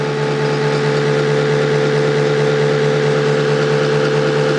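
An electric coil motor spins up as variac voltage is raised, giving a loud, steady whine with strong sustained tones and a constant hum, close and alone.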